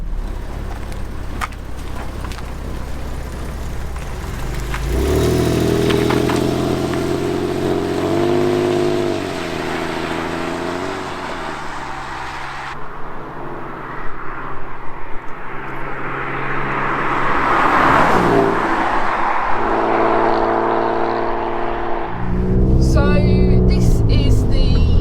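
A Porsche 911 Carrera 4 with a 3.4 litre naturally aspirated engine drives on a road, heard from inside as a droning engine note that rises and falls through gear changes, with road noise and brief louder revving.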